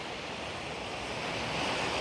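Sea waves wash steadily onto the beach at Pattaya Bay, a broad, continuous surf roar with some wind noise across the microphone and no voices.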